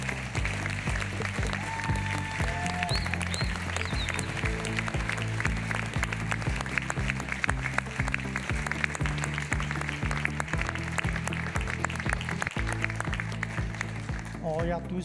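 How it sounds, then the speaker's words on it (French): A gala audience applauds the organising team with sustained, dense clapping that fills the room at an even level, layered over thumping background music, with voices mixed in. "Un tonnerre d'applaudissements pour l'équipe d'Agora"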